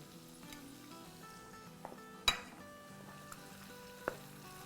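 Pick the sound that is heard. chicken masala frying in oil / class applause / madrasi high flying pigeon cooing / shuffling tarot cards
chicken masala frying in oil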